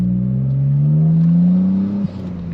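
Toyota GR Corolla fitted with an AWE aftermarket exhaust revs up, a loud close engine note climbing smoothly in pitch for about two seconds before dropping sharply back toward idle.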